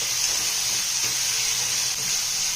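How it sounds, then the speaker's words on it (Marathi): Onion and ground spice paste frying in oil in a pan, giving a steady, close sizzle with a bright hiss that runs without pause. "कांदा अगदी सोनेरी रंगावर भाजून घ्यायचा आहे।"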